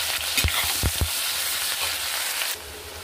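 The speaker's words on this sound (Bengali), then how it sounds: "পেঁয়াজ আর লঙ্কা দিয়ে এটাকে আমি একটু ভেজে নেব" Chopped onion and chillies fry in hot oil with dried red chillies and whole cumin, giving a continuous close sizzle broken early by a few sharp knocks of a utensil against the pan.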